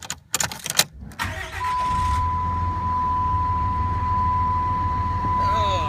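A 2007 Dodge Ram diesel pickup cranks over and fires, then settles into a steady, loud idle with a low rumble and a thin whine running through it, after a few short knocks and clatters at the start.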